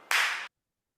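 A single sharp hand clap used for syncing, a bright loud snap with a short ringing tail, followed by silence and a faint click at the end.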